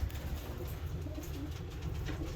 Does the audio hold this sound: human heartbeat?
no